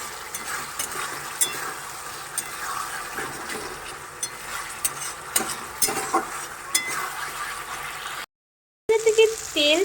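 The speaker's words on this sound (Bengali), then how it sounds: "পরিমাণে জল দিয়ে আবার ভালোভাবে কষে নিচ্ছি।" Fish curry masala for rui macher jhol sizzles in a pan with a splash of water, a steady frying hiss with repeated spatula scrapes and knocks, briefly cutting out before louder stirring resumes.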